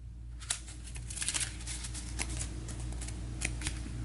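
Playing cards are shuffled at a table during a tabletop card game, a close riffle of quick papery flicks and slaps that comes in bursts over a low background hum, with no voices.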